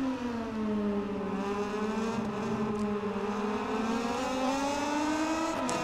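Moto2 racing motorcycle engine in MotoGP 19 at Qatar, a steady high-revving whine with harmonic bands that gently dip and climb as the bike is leaned and accelerated, loud and continuous with no talk.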